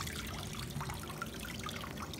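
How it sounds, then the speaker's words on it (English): Water running into a cluster of small water balloons from a color battle balloon filler, a soft continuous trickling and pouring sound held at a low, even level for about two seconds, with no voices. "It's filling up now."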